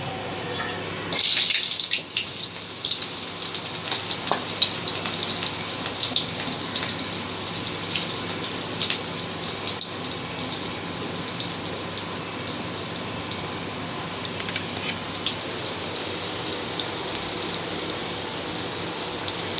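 Cauliflower pakodas fry in hot oil with a dense, steady sizzle and crackle, loud at the start and then holding even and close throughout.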